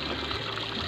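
Running water from a shower at a hot spring rushes as a steady, broad hiss, close and fairly loud, with no voices.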